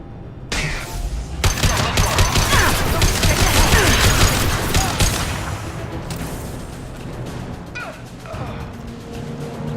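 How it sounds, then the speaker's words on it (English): Heavy gunfire from Blue Suns mercenaries and Vorcha in Mass Effect 2, dense rapid bursts and booms overlapping loudly for several seconds before thinning into scattered shots and distant crashes. "The Blue Suns and Vorcha shooting anything that moves."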